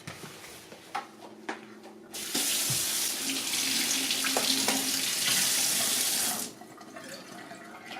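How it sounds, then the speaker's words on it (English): Strawberries being washed under a running kitchen tap, a loud steady rush of water that starts abruptly, flows for about four seconds, then cuts off, with a few light handling knocks before and after. "First step is washing the strawberries."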